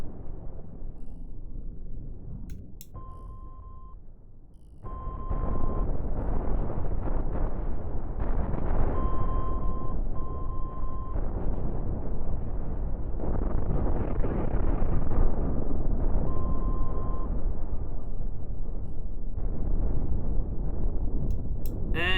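Space battle explosions in Cosmoteer: after a quieter stretch, a sustained loud rumble of overlapping blasts and roaring fire kicks in and carries on with slight surges, punctuated by short synthetic tones.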